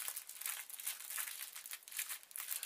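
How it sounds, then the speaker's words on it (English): A crinkly plastic bag of rice is handled and tucked inside a sewn cloth cover, giving a faint, close, continuous crackling and crinkling with no talk. "don't buy crinkly bags. So, I'm turning this inside out, tucking the bag of rice into there."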